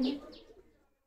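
A single short pigeon call held in the hand, a brief close coo that fades quickly into silence.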